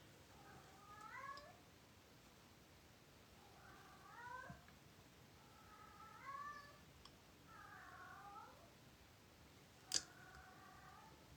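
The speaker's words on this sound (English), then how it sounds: "that's the cat." A cat meows repeatedly, with five drawn-out calls spaced evenly a couple of seconds apart, quiet and slightly distant. A single sharp click comes near the end.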